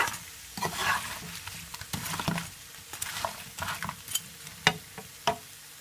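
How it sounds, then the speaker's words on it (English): Fried pork is stirred in a pan with sweet and sour stir-fry vegetables, a spatula scraping and clattering in irregular strokes over a low sizzle, close and alone. "So now I'm gonna add all of my fried pork to it. Give it a stir."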